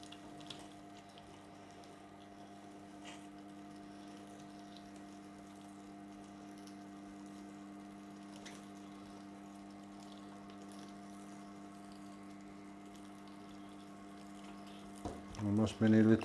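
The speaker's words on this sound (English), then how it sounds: "Let's make a knot in it and let's start filling." A sausage filler pushes Spanish longaniza meat into a wet casing. A steady motor hum runs throughout at moderate level, then louder clunks and handling noises come near the end.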